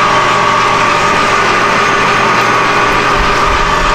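A drill bores through a spacer bushing for the top of a threaded-rod clamp, making a loud, steady whirring with a constant mid-pitched whine over broadband noise and a few low bumps near the end.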